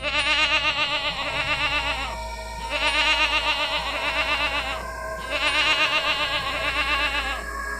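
A goat inside a sack bleats loudly and close in three long, wavering cries, each a drawn-out, quavering call with short pauses between.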